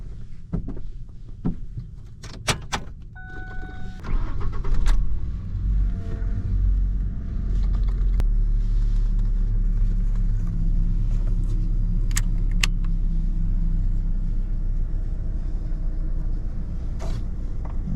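Keys jangle and clatter before a 2010 Ford Ranger four-cylinder pickup with a five-speed manual starts. The engine then settles into a steady, low idling rumble up close.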